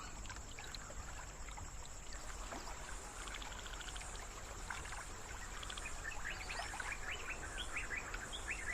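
Wild birds in Sri Lanka chirp and call over a steady, dense outdoor ambience with a constant high insect-like drone, the calls growing busier toward the end and sounding moderately distant.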